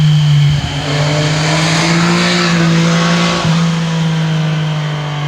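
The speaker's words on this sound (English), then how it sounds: "lots of high-speed traffic going through here" High-speed road traffic rushes past close by, a loud continuous roar of engines and tires with a steady hum and a few shifting tones, no talk over it.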